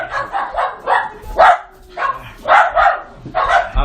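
Several dogs bark in a quick, repeated series of loud nearby woofs and yips, in clustered bursts throughout with short gaps between them.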